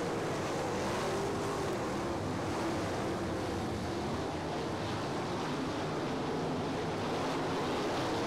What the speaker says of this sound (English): The sights and sounds of sprint cars is just one of the best things in the whole wide world.